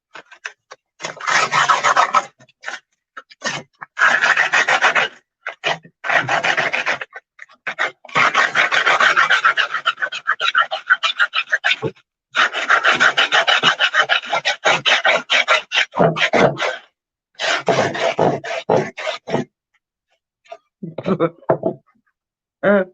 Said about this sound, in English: I just took a piece of sanding paper